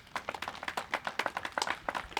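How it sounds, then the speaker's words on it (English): Audience at a City of Westland and WWCSD construction technology classroom ribbon cutting applauds students, a close burst of many overlapping hand claps with a quick, uneven rhythm. "if we can give them a round of applause again"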